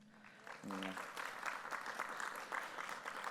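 Applause from a forum audience welcoming a host, a dense wash of clapping that starts after a brief voice and holds steady at moderate level.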